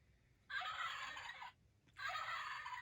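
A turkey gobbles twice, two loud rattling bursts separated by a short pause, close to the microphone and with no talking.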